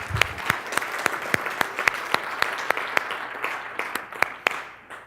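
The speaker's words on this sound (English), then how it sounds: "Give her a round of applause." Sparse, evenly spaced hand claps ring out one at a time over a quiet room hum, slowing and fading toward the end.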